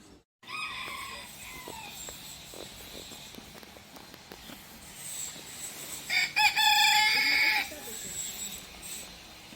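Chickens cluck and a rooster crows in the chicken area of a farm park, heard while walking, with footsteps and a louder crow near the end.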